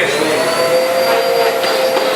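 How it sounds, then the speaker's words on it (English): A vacuum cleaner runs loud and close, a steady high-pitched motor whine with a constant rushing airflow and no break across the short stretch. "Turn on that vacuum just for the hell of it."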